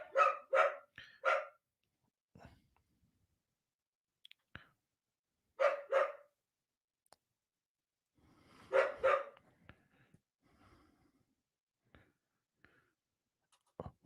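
A dog indoors barks in short bursts, first three quick barks, then single and double barks spaced out over several seconds, fairly close, with quiet gaps between and faint clicks.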